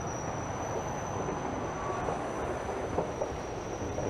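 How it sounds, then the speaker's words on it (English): A southbound subway train rolls into a Toronto station, a steady loud rumble of wheels and cars with a high whine running throughout and faint clicks over the tracks. "A southbound train rolls in,"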